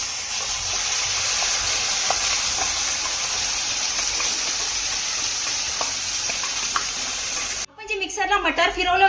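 Pea paste sizzles in hot oil with cumin seeds, a steady close hiss that runs for several seconds before a voice begins speaking at the end.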